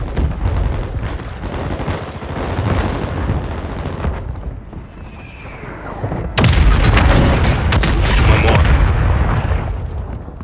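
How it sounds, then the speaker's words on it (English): Mortar strike explosions in the video game Warzone produce deep rumbling booms, ending in a sudden, loud blast partway through that rolls on heavily until the end. "Friendly mortar strike on the way."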